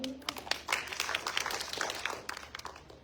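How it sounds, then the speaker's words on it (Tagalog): A church congregation at A.B.L.A.Z.E. for Christ Church claps together, a dense patter of hand claps that holds steady for about three seconds at moderate distance. "Palakpak ng Panginoon."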